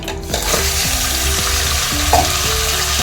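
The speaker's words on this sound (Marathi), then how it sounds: "हे जे धुतलेले मटण आहे ना हे यात आपल्याला सोडायचे तुपात" Washed mutton frying in ghee with cardamom, a loud, close, steady sizzle broken by repeated scraping and stirring strokes of a spoon against the pan, no voices.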